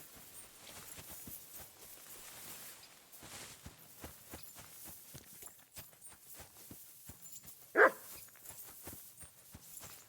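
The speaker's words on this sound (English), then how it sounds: "Barking." A dog barks in the medieval role-playing game Kingdom Come: Deliverance II, one sharp bark standing out over a steady patter of footsteps and faint ambient sound.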